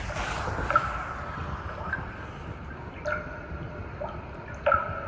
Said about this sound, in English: There's actually speakers playing water dripping.